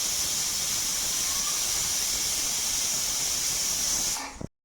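A pressure cooker cooking bisi bele bath vents steam with a loud, steady high-pitched whistling hiss that holds for several seconds before cutting off abruptly.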